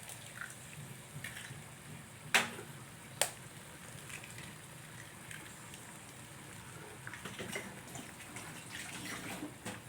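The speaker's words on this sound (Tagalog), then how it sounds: "Kumukulo na yung tubig natin." Water in a cooking pot, heated for cooking fish with egg, gives a soft steady bubbling hiss throughout, with a couple of sharp clinks near the start and no talking.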